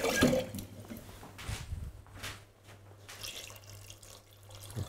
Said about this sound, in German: Jetzt geben wir noch einen kleinen Schluck Wasser drauf